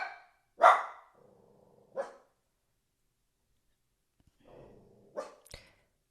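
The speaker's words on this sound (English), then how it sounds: "If you're going to bark, you got to go." A single dog barks several times at close range indoors, in short sharp barks with soft breathy huffs and low grumbles between them and pauses of silence.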